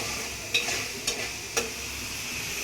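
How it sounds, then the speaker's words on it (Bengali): Spice paste of onion, ginger and garlic frying in a pan gives a steady hiss, broken by three clear scraping strokes of a spatula. "আর ওই যে ওখানে মশলাটা কষাই নিতেছে"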